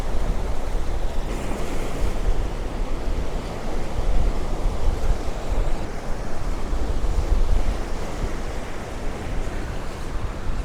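Ocean waves breaking and washing in a steady rumbling roar, with surf near and farther out and some wind noise across the microphone, continuous with no voices.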